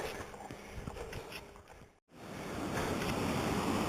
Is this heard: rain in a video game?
no